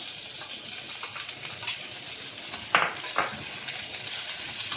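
Onions and vegetables such as capsicum and carrot frying in a pan for veg mughlai paratha, a steady close sizzle with a few brief stirring scrapes, no talking.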